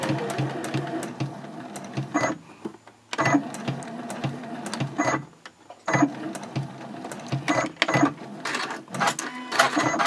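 Sewing machine stitching the casing of a reversible fabric drawstring gift bag, loud rapid mechanical whirring in several bursts separated by short pauses and stops for backstitching.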